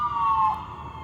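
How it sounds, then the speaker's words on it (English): An ambulance siren wails loudly on an empty road, a brief sustained tone that falls in pitch and fades slightly. "it's literally an empty road and an ambulance is just blasting"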